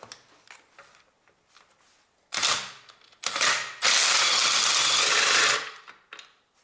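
A ratchet wrench loosens a bolt on the engine of a Honda Civic 1.8 R18A1, with several bursts of rapid ratcheting clicks, the last one long and steady, close up in a quiet workshop.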